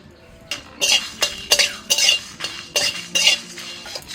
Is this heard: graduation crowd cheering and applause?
no